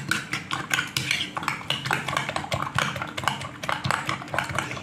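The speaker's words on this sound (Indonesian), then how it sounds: "Nah ini akan saya kocok sampai tercampur rata ya untuk bumbu sama" Eggs whisked in a bowl with spring onion and seasoning, a rapid, continuous run of light clicking and tapping utensil strikes against the bowl, close and busy, with no voices.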